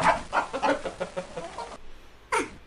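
A cartoon chicken clucks in the Play & Learn: Reading and Counting PC game by DK Multimedia, a quick run of close, loud clucks followed by one final cluck after a short pause.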